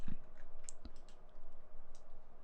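Sharp mouse clicks while control-clicking in design software, a few isolated taps spaced irregularly and close to the microphone over a quiet room hum.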